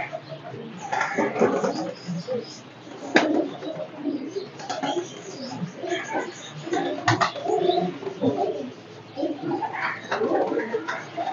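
Several pigeons coo in overlapping throaty calls, with occasional sharp clicks and rustling and bits of faint talk mixed in.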